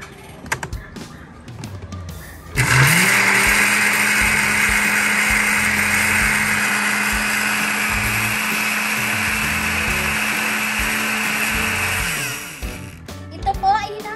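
An electric blender whirs loudly and steadily for about ten seconds as it blends aloe vera pieces with half a liter of water, starting abruptly and then stopping, with no talk over it.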